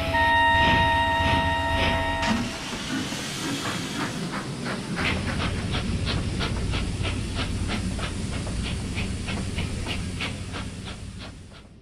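A steam locomotive shunting coaches on a scenic railroad, opening with a loud steady hiss of steam, then settling into rhythmic chuffing beats that carry on evenly over continuous rumble and fade slightly at the end.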